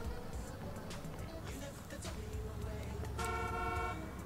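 In the video game Grand Theft Auto 4, a car horn honks in street traffic: a sustained loud toot near the end after shorter blasts, under someone talking over background engine noise.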